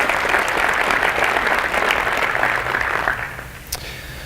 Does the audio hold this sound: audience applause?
yes